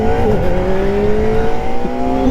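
A 2024 Kawasaki Ninja ZX4RR motorcycle being ridden, its engine holding a loud, steady high-pitched whine with slight pitch drift, heard close and continuous under wind noise.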